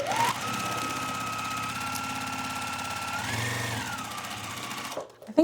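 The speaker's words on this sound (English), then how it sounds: "I'm just lining up the strip and sewing on it and then trimming it back after" Quilt fabric strips feed through a sewing machine in one long, steady, close run of stitching that ends abruptly, with a soft hum throughout.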